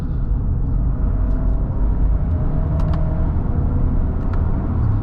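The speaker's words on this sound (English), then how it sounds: "very quick downshifts" Engine of a 2024 Kia Sorento X-Pro SX Prestige rumbles steadily from inside the cabin during quick paddle-shift downshifts, a low continuous drone with faint brief ticks.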